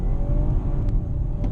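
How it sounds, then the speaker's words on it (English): BMW car accelerating to 60 on a driving course, steady engine and road rumble heard from inside the cabin, building gently without talk. "Accelerate to 60."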